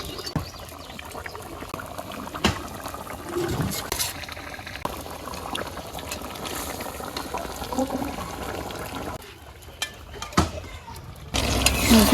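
Fish goes into a cooking pot in a village kitchen, with soft liquid bubbling and trickling, a few sharp clatters, and a louder burst of sizzling noise near the end. Everything stays quiet and close.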